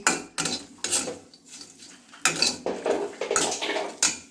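Dried fish being stirred and dry-roasted in a pan, with a utensil scraping and clattering against the metal in repeated bursts, close and fairly loud, no voices.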